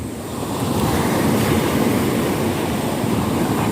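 Rough sea waves crash and surge continuously on a Mindoro beach after heavy rain, a loud dense roar of surf mixed with wind buffeting the microphone, with no pauses.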